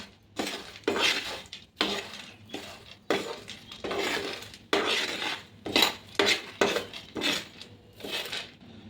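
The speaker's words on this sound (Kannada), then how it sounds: "ಇವಾಗ ಮತ್ತು ಲೈಟಾಗಿ ಹುರಿಯೋಣ್ರಿ ಅದು" Chutney powder ingredients lightly roasting in a little oil while being stirred in a pan, giving close, repeated scraping and rattling strokes in an uneven rhythm, with no talking.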